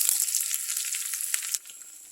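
Chopped shallots hit hot oil with popped mustard seeds in a pan, giving a steady bright sizzle with a few sharp crackles, close and fairly loud, easing off abruptly near the end.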